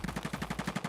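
A submachine gun firing in Escape from Tarkov, a rapid even burst of about ten sharp shots packed into one second, fairly close and harsh.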